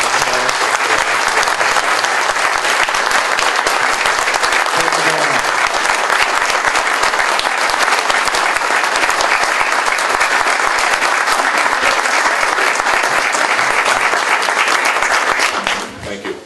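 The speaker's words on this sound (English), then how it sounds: "let's give these gentlemen a round of applause." An audience at a League of Women Voters general election forum gives the candidates a loud, sustained round of applause lasting about fifteen seconds before it tapers off.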